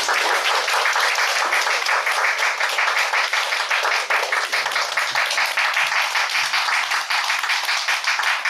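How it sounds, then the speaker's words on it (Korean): A church congregation claps warmly and steadily to welcome missionaries to the Gambia at a monthly prayer meeting, dense, even applause filling the room throughout. "한번 뜨겁게 박수로 우리 환영을 축복합시다"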